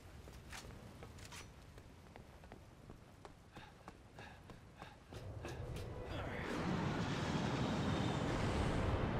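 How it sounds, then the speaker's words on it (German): Aircraft from the video game Resident Evil 6 flying past, a broad roaring whoosh that swells in the final seconds and builds over earlier clattering game noises and scattered taps. "Das war das Flugzeug mit Leon und Händler."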